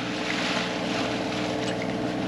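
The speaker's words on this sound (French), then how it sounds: "Et le moteur tourne toujours." A sailboat's engine drones steadily with a low, even hum under wind and water noise, running continuously near the microphone with no one talking.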